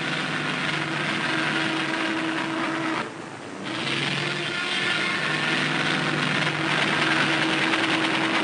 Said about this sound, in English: Finally, the sensational dive bombing, 300 miles an hour.